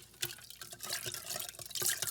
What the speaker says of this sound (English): All right, I'm giving you more water.